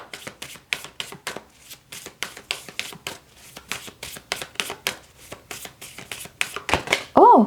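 Tarot guidance cards being shuffled and drawn by hand: a brisk, steady run of close riffling slaps and flicks, fairly loud, ending in a louder handling burst, with a voice briefly heard over it.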